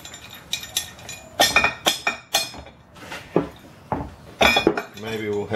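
Several sharp metallic taps and clinks from an improvised slide hammer on a Honda GX120 horizontal-shaft four-stroke engine, close by and irregular, with brief pauses between strikes and a little background talk.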